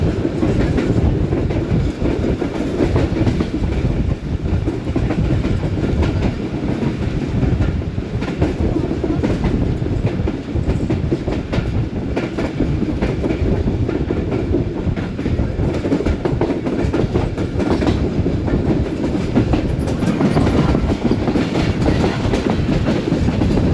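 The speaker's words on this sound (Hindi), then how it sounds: "ट्रेन इस वक्त हमारी सिहाला रेलवे स्टेशन से पास थ्रू कर रही है।" A Subak Raftar railcar train runs through Sihala railway station with a steady, loud rumble and rhythmic clickety-clack of wheels on rails, continuous and close throughout.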